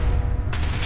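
Gunfire in the video game Fallout 4 comes as a short burst of loud, close shots that crack over a dense wash of game noise.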